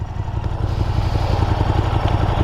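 A KTM SuperDuke 1290 GT motorcycle with a V-twin engine runs close by, a steady, choppy low throb with slight rev swells throughout and no talk.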